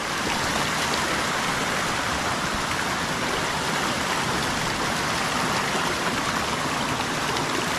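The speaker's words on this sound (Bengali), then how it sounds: "ঝর্ণার জল" Water from a hillside waterfall stream rushes steadily, a dense, continuous loud roar filling the scene with no pauses and no voices.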